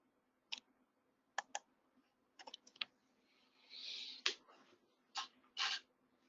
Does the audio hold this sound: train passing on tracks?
no